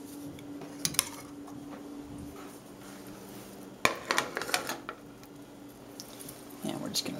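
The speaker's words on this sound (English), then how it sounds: "we're just going to tong the meat right into the pan" Tongs clink against a hot pan as a beef strip steak goes in, with sharp metallic taps and a soft sizzle starting underneath, over a quiet kitchen hum.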